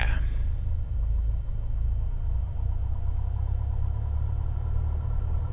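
A Cessna 172's engine starts up in Microsoft Flight Simulator with a brief catch at the start, then settles into a steady, deep, rumbling idle that holds evenly throughout, close and moderately loud.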